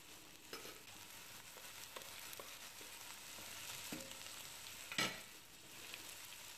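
Veal roast set into a hot casserole with browned onions, a quiet steady sizzle with a few soft knocks and one sharper clatter of the meat and pot, no talking.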